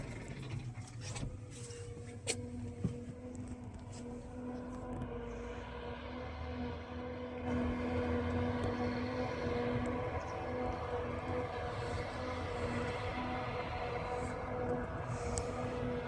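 A steady, loud mechanical drone of a remapped Claas forage harvester working a second-cut field nearby, engine hum with a constant whine, continuous throughout with no speech.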